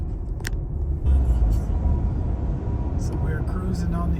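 A car on a road heading toward the interstate, heard from inside as a steady, fairly loud low road rumble and engine drone that holds throughout, with a few faint higher clicks and no talking.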